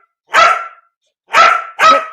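A trained dog barks on cue, giving three loud, close barks: one single bark, a pause, then two quick barks in succession, with no talking.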